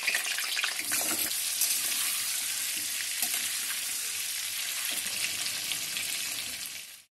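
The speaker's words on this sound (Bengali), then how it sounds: "আলুগুলো প্রথমে ভেজে নেব।" Potatoes fry in hot oil in a wok for a spiced mutton curry, giving a loud, steady hiss that stays even and close throughout and fades out at the end, with no talking.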